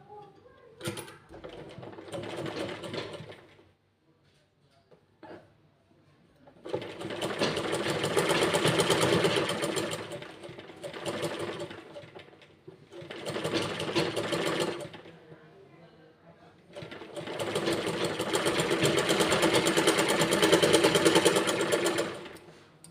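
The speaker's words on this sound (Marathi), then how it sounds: "याला अशी एक शिलाई टाकून घ्यायची इथे" A sewing machine stitches a tuck on a blouse, running close and steady in four separate bursts of whirring needle action with short pauses between them.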